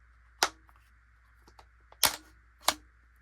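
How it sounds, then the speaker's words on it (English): A bolt-action .17 WSM rifle bolt being worked, giving three sharp metallic clacks spaced unevenly, with softer faint clicks between them in a quiet room. "So when you close the bolt, it's cock on close."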